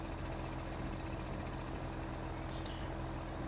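A John Deere tractor engine idling in Farming Simulator 15, a steady low knocking rumble held at constant level throughout, faint and mechanical with no talking.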